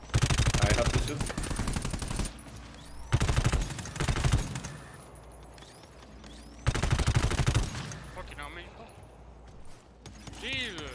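Heavy automatic gunfire in the game GTFO, three loud sustained bursts with quieter gaps holding electronic chirps and tones, players talking over it.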